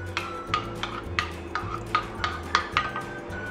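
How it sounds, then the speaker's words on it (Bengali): A spoon stirs salt into vegetable chop batter in a bowl, making repeated scraping clinks against the bowl at a steady rhythm of about two strokes per second, close and clear. "দিয়ে নুনটা দিয়ে ভালোভাবে আমি এটাকে গুলে নেব"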